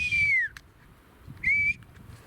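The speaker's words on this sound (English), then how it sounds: "I don't know why I did that whistle to him." A person whistles to a hawk on a mountainside, two clear falling-then-rising whistle notes about a second apart, loud and close over low wind rumble.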